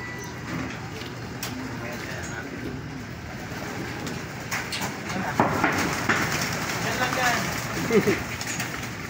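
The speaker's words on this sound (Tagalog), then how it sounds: "Lakas ng ibon." Many racing pigeons coo together in a dense, constant chorus, while people talk intermittently over the flock.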